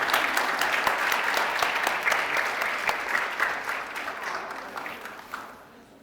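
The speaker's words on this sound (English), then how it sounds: "can we have a huge round of applause for the complete team for getting such nice and good patients?" Sustained audience applause at a medical conference on obstetric and gynecologic ultrasound imaging, a dense wash of many hands clapping that holds steady and then fades toward the end.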